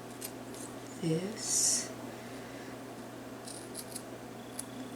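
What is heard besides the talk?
cutting a paper letter with scissors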